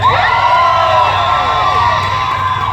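A large crowd cheers and shouts loudly all at once, a dense wall of voices with some high whoops rising above it.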